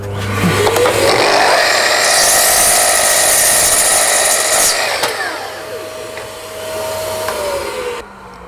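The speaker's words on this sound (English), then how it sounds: "Extractor on." A workshop dust extractor spins up with a rising whine, holds a loud, steady roaring hum, then drops in pitch and winds down near the end.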